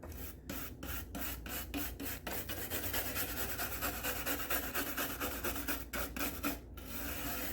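Rapid back-and-forth scrubbing on an IBM 5150 computer part to remove residue, a steady rasping rub with rhythmic strokes that runs for several seconds, close up and without talk.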